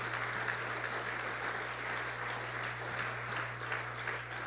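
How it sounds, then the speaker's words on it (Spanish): A church congregation applauds in honour of the name of Jesus, a faint, even, continuous patter of many hands heard over a low steady hum. "Dele un aplauso al nombre de Jesús."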